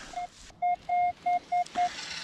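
A metal detector signals in a forest by a lake with a series of short electronic beeps, six clear tones in an uneven sequence, loud and close against a faint background hiss.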